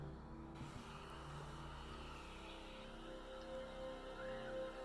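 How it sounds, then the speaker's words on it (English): A bus passing along a street in Yorktown or Williamsburg, a steady low engine rumble with a faint whine, heard from a distance and fairly quiet. "It was a bus. Like, you can hear the bus."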